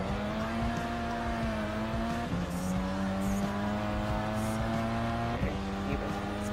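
Race car in Gran Turismo Sport, engine holding a sustained tonal whine that shifts pitch at gear changes, running steadily at high throttle with faint tire noise and occasional brief voices beneath.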